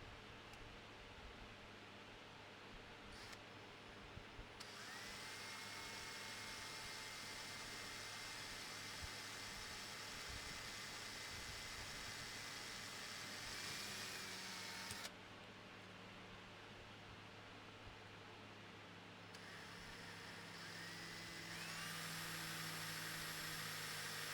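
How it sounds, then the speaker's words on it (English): A high-pitched rotary tool with a cone-shaped diamond-coated bit whines steadily in long runs while drilling a knife for a center pin, stopping briefly between bursts, with a grinding hiss as it cuts. "I'm using a diamond coated bit in the shape of a cone in my rotary tool"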